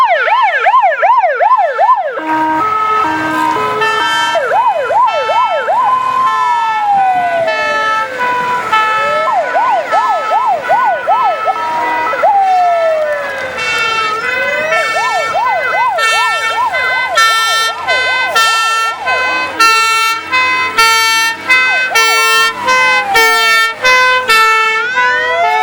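A classic Dutch Commando fire engine from the London Fire Brigade at Biggin Hill sounds its siren at a fire show, loud and close. It alternates a rapid warbling two-tone with long rising and falling wails, with no talking.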